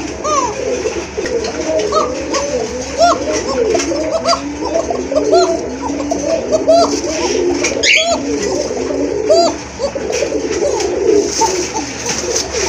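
A pair of Koka pigeons coo in soft repeated rolling calls, close by, amid chatter of people and children at a pigeon market with other birds around.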